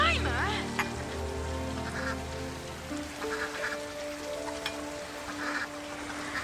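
Ducks on a farm, including Jemima, quack and honk in a few bursts over a soft outdoor bed, with a gentle musical tone running underneath early on.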